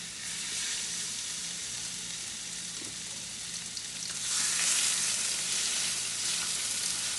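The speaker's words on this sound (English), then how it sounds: "Now my skillet is getting hot for the salmon" Steady hissing sizzle of salmon frying in a hot skillet, growing louder midway as more hits the oil, with no talking.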